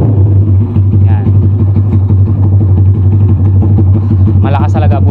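A Sigma 250 motorcycle fitted with an SC Project exhaust, loud and close, its engine throbbing in a steady rapid idle pulse with brief blips of revving, while a person talks over it.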